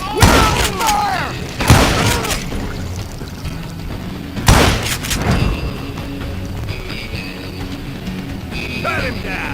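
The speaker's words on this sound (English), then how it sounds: "Who's shooting at us? We're under fire!" Gunfire in the Call of Juarez: Gunslinger Western shooter, loud cracking shots and booming impacts at irregular intervals under shouting voices and game noise.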